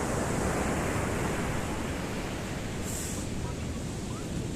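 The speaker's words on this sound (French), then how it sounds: "La mer est agitée" Rough sea waves washing onto a beach, a steady loud roar of surf and wind noise with no clear breaks, one brief hiss of spray near the middle.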